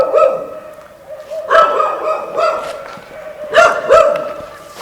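A dog barks repeatedly at close range, sharp bow-wow barks in irregular clusters with short pauses between, over faint background voices and room noise.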